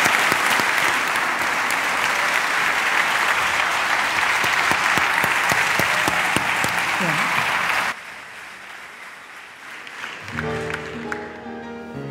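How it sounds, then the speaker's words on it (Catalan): Loud, dense applause from a large crowd fills most of the clip, then cuts abruptly to quieter room sound with music starting near the end. "un fort aplaudiment,"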